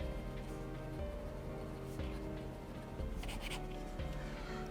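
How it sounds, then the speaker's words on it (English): A Monteverde Axis fountain pen with a fine nib and Private Reserve Orange Crush ink moves across paper, a faint, close scratching and rubbing in short strokes over a low steady background hum. "The nibs write smoothly, and this is a fine nib"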